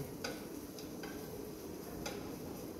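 Oiled pan, already hot from an earlier round of kelp, holding a quiet steady hiss of stir-frying, with a few light scrapes and clicks of a utensil scattered through it.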